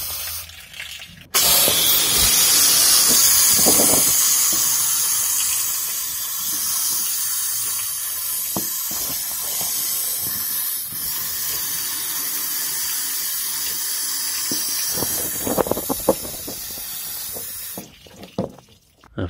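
Water hose spray washing down the chassis around a Land Rover Defender 110 plastic fuel tank, a steady loud hissing gush running for most of the stretch, then cutting off near the end.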